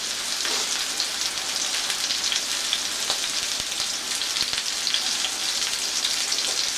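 Pot roast meat sears in a hot pan, giving a loud, steady frying hiss with crackling spatters that runs without a break and without any voices over it.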